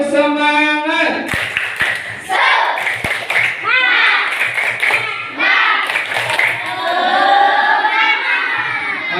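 A class of children performs a rhythmic spirit clap, with sharp, patterned hand claps mixed with shouted chants and an adult's voice leading, loud and close with bursts of group voices between claps.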